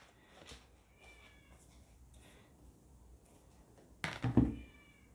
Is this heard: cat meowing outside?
yes